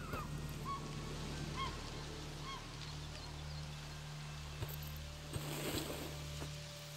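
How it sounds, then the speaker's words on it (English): Seagulls call in a video game, several short honking cries near the start over a steady low ambient hum, followed by quieter background sound with a few soft thuds. "Seagulls!"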